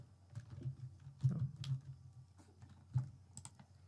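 Light typing on a computer keyboard, scattered soft key clicks with a few louder taps, quiet and close, no voices.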